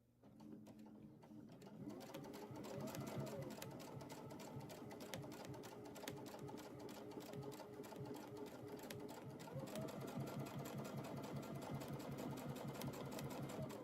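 Sewing machine stitching steadily through a log cabin quilt practice panel with ruler work, a continuous close mechanical whir with rapid needle rhythm running the whole time, briefly starting up at the beginning.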